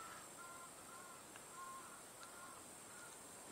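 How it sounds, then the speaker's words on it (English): Birds call at a distance in the bush during an evening safari drive, a few short repeated cries rising over a quiet, hissing outdoor background. "Just listening to some birds that are shouting."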